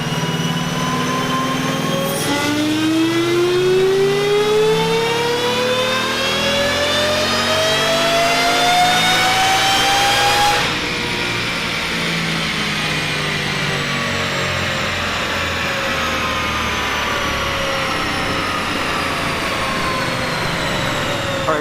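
A supercharged 2018 Ford Mustang with a Whipple supercharger and 132mm throttle body, no headers, mid-pipe or mufflers, revs up on a dyno, its whine and engine note rising steadily for several seconds before cutting off and winding down.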